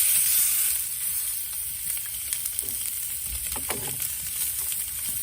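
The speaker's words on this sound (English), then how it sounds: "Now I'm going to put the tri-tip on the egg" A tri-tip is laid on the hot grate of a Big Green Egg grill to sear and gives off a steady, close, hissing sizzle. A few soft clicks and shifting sounds come through the sizzle, and no one speaks.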